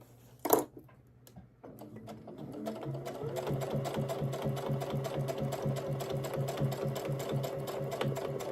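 A sewing machine stitches a paper-pieced quilt block: after a brief click and a short pause, it starts up and runs in a steady, fast, close mechanical chatter through to the end.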